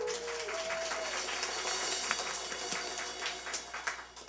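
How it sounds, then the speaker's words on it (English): A church congregation applauds, a dense steady patter of many hands clapping that carries on throughout and tapers slightly toward the end. "That really does deserve a round of applause, without a doubt."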